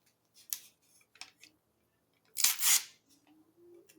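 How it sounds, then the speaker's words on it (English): A sharp precision hobby craft knife slicing through a piece of paper, heard as a few short crisp scrapes followed by one longer, louder close cut, with quiet pauses between strokes. "Let's see if we can cut a piece of paper simply,"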